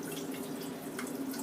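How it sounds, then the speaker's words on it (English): Water draining and dripping from a jar of broccoli sprouts, a faint trickle with a few soft drips, close and quiet with no talking. "All we're going to be doing here is draining out the water."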